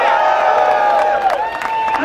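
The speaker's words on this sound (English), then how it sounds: "Give them a cheer." A rally crowd cheers and whoops loudly and continuously, a dense wash of many voices filling the whole moment without a break.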